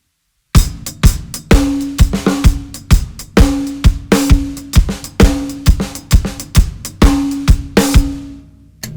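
Full drum kit playing a reggae hot steppers groove, steady four-on-the-floor kick with hi-hat and snare, adding snare fills through the pattern; loud, close and alone, no talking.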